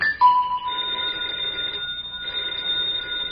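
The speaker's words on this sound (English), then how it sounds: "the telephone's ringing." A telephone rings in an old-time radio comedy, giving a steady electric ring with sustained tones that continue through the whole short stretch, fairly clear and alone without talk.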